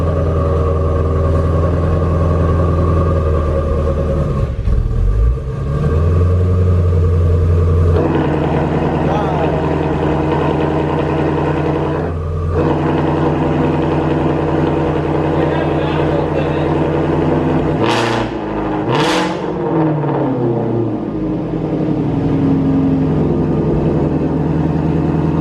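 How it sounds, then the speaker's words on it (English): Stock Ford Mustang GT350 exhaust being opened and closed, a loud deep engine rumble that swells and drops, with sharp revs near the end. "a quick clip of a stock GT350 of him opening and closing the exhaust"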